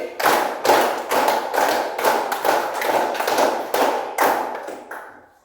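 Class of children performing a rhythmic group hand-clapping routine of threes repeated twice, a rapid run of loud, close claps in clustered beats that stops and fades at the end.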